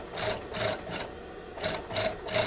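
A sewing machine stitching bias trim with a cording foot, running in four short bursts of rapid, even whirring with brief pauses between.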